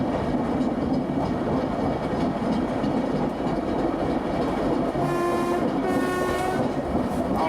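A Vivarais heritage train rolls steadily over rail joints, approaching a small viaduct, with a continuous loud rumble. Tonal squeals or a whistle rise near the end.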